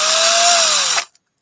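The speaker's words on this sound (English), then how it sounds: "What I like about this drill, one of the things you can do to control the speed is the amount of pressure you put on the trigger." An electric drill runs at slow speed under light trigger pressure, whining steadily and loudly up close for about a second before stopping abruptly.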